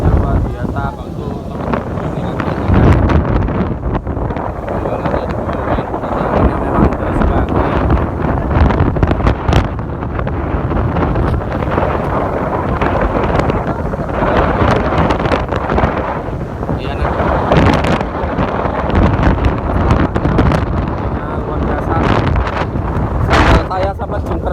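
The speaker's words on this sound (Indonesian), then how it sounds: "Karena anginnya luar biasa kalau tuh." Strong gusty wind at a beach roars and buffets the microphone continuously, loud and close, with people talking under it.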